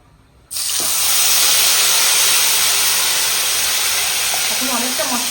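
Spice paste for a Bengali rui fish curry hits hot oil with a sudden loud sizzle that settles into a steady, bright hiss of frying, with faint stirring clinks.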